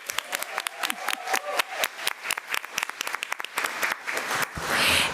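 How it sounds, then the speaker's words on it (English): Audience at a school board meeting applauding a student, distinct individual claps at first that thicken into fuller clapping and end in a loud swell. "a big round of applause."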